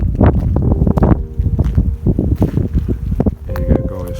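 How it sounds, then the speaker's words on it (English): Wind gusts over the Uig caravan site on the Isle of Skye, rumbling and buffeting the microphone in a loud, uneven roar, with a voice faintly present underneath. "All the wind blowing."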